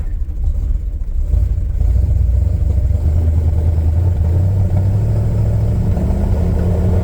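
A 1970 Dodge D100 pickup with a 318 V8, mild cam and Hedman headers idles close by with a loud, steady, uneven lope and rumble, no voices over it.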